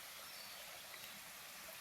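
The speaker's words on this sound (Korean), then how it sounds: "물소리가 자잘자잘하게" Gentle trickling mountain stream near native Korean magnolia and wild greens on a forested slope, a soft steady babble of water running continuously and fairly faint, with no voices.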